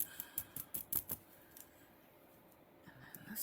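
Scissors snip through material along a drawn line in a quick run of short, crisp cuts, close and fairly quiet, then pause before a few more snips near the end.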